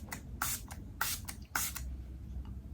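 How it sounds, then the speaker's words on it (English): Three short, breathy hisses of a facial mist spray bottle, close and clear, spaced about half a second apart with quieter puffs in between. "Let me just spray it on again."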